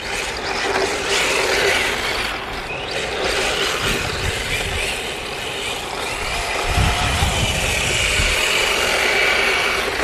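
Tamiya radio-controlled car fitted with drift wheels being driven hard, a loud whining electric motor and gear rattle, continuous with bursts of wheel scrabble on the surface, close by and with no talk.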